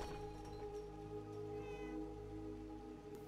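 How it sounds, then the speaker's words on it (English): Cats in a Fallout 4 settlement called Greentop Nursery mew faintly a couple of times over a steady low hum and background game ambience, no talk. "Greentop has 6 cats in various colors."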